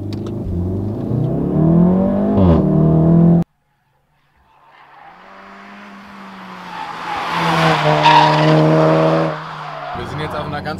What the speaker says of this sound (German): wie der Sound des Autos auf der Landstraße ist